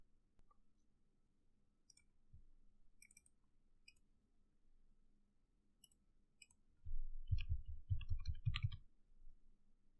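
A computer mouse is clicked while logging into an app during Flutter coding work. Faint, sharp single clicks are scattered across a quiet room, followed by a louder burst of dull desk handling noise.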